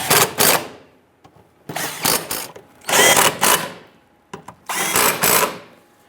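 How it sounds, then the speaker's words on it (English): A power tool tightens the bracket bolts under a 2005–2010 Chrysler 300 during transmission work, firing in several short, loud rattling bursts separated by brief pauses. "I'm going to follow up with tightening down our bracket bolts"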